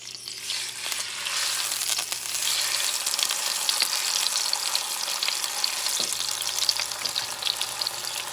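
Cod fillet frying in olive oil in a preheated pan over medium-high heat gives a steady, dense sizzle with crackling spatter throughout. The sound is close and continuous, with no voices.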